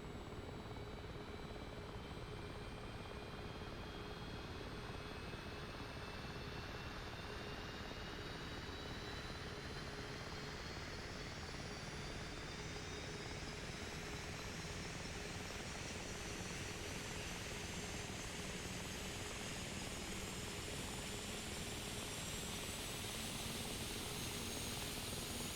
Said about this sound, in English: So we'll start the left engine first.